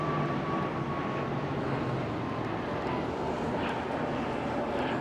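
Airliner going around at London Heathrow, a steady broadband jet engine roar sustained throughout, loud and continuous, with no speech in the foreground.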